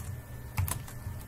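Keystrokes on a computer keyboard while a worksheet is renamed in a spreadsheet program, a few soft, close clicks clustered near the middle of a short, quiet stretch with no talking.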